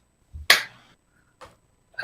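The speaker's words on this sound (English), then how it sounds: "So we'll go 1, 2, 3, clap." A single sharp hand clap, made to sync a podcast recording, cracks out close to the microphone after a soft thump, then decays quickly into near silence, followed by a couple of brief, quieter noises.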